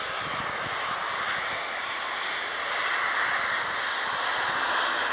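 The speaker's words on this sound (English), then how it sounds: "And Ryanair just arrived as well." A Ryanair airliner arriving at Manchester Airport produces a steady, loud broadband engine roar that builds slightly toward the end, with no talk over it.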